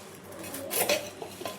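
A metal spoon scrapes and clinks against a pan as peanuts, onion and salt are stirred together, giving a few close, quiet scraping strokes and light metallic knocks.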